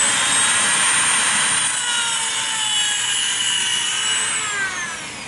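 Dremel rotary tool grinding the cocking hammer of a Crosman 2240 air pistol, a loud, steady high-pitched whine with gritty rubbing that holds for several seconds, then eases slightly at the end, close up and without talk.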